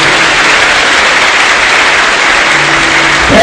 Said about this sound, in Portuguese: Uma salva de palmas para o nosso bispo